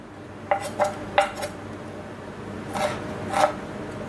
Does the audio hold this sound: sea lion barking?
no